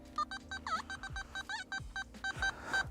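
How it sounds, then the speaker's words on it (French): A Nokta Simplex Ultra WHP metal detector sounds a rapid series of short electronic beeping tones as a target is swept, including a warbling tone from a rotating ring, close and clear without talk. "Là, ça sonne différemment parce que c'est un anneau qui tourne."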